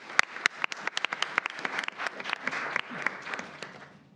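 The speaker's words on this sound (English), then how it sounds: "let's give a round of applause to all three of our students" Scattered applause from a small audience at a school board business meeting, individual claps distinct and fairly quiet, building into a light patter before thinning out.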